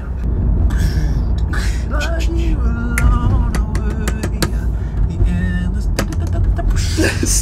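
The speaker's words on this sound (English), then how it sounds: "Steering wheel drumming." Hands drum on a car steering wheel in an irregular pattern of sharp taps and thumps over a steady low cabin rumble, with scattered clicks and knocks.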